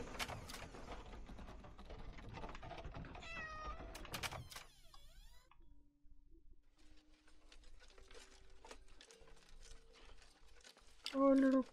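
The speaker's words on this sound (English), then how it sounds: "Oh, little baby kitties." Cats meow inside the horror video game Layers of Fear: Inheritance, a few thin, high cries surfacing over dark ambient game audio with music and other sounds around them, one louder burst near the end.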